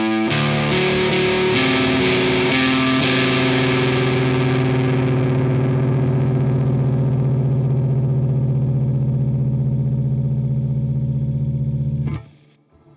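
Harley Benton Classic MR, a Mosrite-style electric guitar, plays the ending of a song through heavy distortion and chorus effects: a loud, sustained, ringing chord that slowly decays for about twelve seconds before cutting off abruptly.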